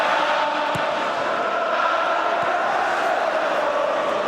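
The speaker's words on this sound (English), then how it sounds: "that's a very notable clap from Shevchenko in the direction of the Chelsea fans who are singing his name" Chelsea fans chanting a player's name in a football stadium during the Liverpool versus Chelsea match, a steady distant wash of crowd singing filling the whole stretch without pause.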